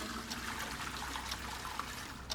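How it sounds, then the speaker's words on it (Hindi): A toilet flushes after a mobile phone is thrown into it, a steady rushing gurgle of water lasting a couple of seconds at moderate level with no voices. "फिर उसने मोबाइल टॉयलेट में फेंक कर फ्लश कर दिया।"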